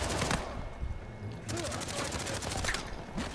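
Bursts of rapid gunfire in a multiplayer shooter game, moderately loud volleys in two clusters with short gaps, mixed with faint game effects.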